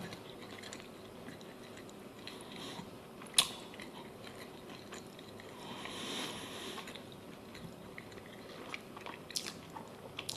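Close, quiet chewing and biting of a tangy jalapeno dish, with soft squishy mouth sounds throughout and one sharp crunch partway in.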